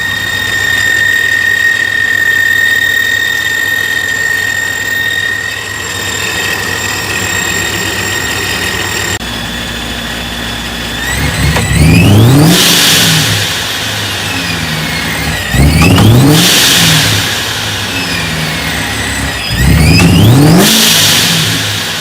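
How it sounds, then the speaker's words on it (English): Modified turbocharged car idling, then given three short blips of the throttle, each rev rising and falling with a hissing blow-off valve release, loud and close. "I'll give it a couple little taps on the gas. That way you guys can hear the blow-off valve"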